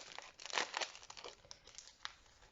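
A paper mail envelope being torn and opened, crinkling and ripping in short bursts, close and fairly quiet.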